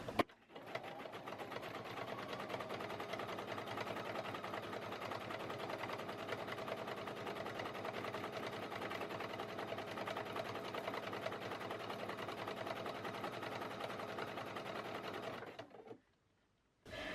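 A sewing machine runs continuously, stitching fabric rope into a bowl. The steady mechanical whirr and clatter is close and even, then cuts off abruptly near the end, with no speech.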